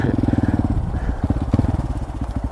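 A Honda Grom motorcycle engine runs close by, a loud, steady throbbing idle with rapid regular pulses that rises briefly as the throttle is blipped.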